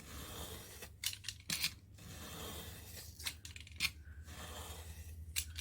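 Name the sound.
knife trimming 12x12 scrapbook paper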